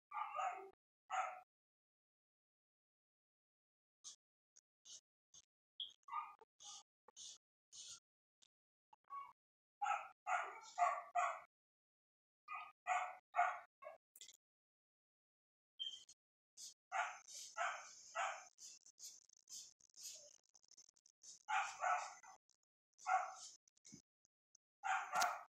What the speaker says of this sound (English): Had to tend to the dog barking.